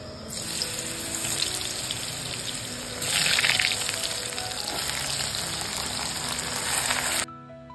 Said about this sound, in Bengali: তো আমাদের তেল গরম হয়ে গেছে, তো আমি পটলগুলো ছেড়ে দিচ্ছি।